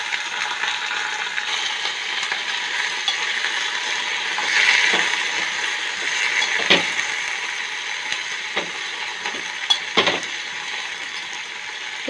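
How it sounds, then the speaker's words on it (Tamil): Garlic, dried red chilies and mint sizzle steadily in a pan, a soft continuous frying hiss with a few sharp clinks of a utensil against the pan. "ரொம்ப வதக்க வேணாம், சூடு மட்டும் ஆனால் போதும்."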